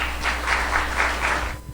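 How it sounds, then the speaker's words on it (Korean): A seminar audience gives steady applause as a speaker is introduced. It is a dense, even patter of many hands with a slight rhythmic swell, fading near the end. "박수 부탁드립니다"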